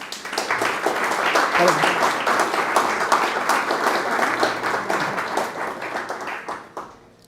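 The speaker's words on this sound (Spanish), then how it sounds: "Usted le puede dar un aplauso al Señor." A church congregation breaks into sustained applause, a dense wash of many hands clapping for several seconds before it tapers off and stops.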